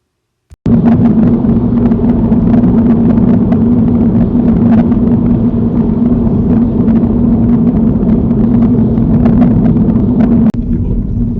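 A car drives along a road in fourth gear during a driving lesson, a loud, close, steady low engine and road rumble with wind buffeting that starts abruptly and runs without a break.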